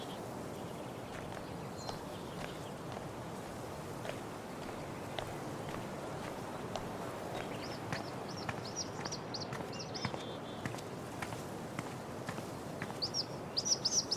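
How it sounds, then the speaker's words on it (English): A bird chirps in short repeated bursts in Life is Strange: True Colors, faint and somewhat distant over quiet footsteps and a soft outdoor ambience. "I wonder if this is the bird that woman is looking for."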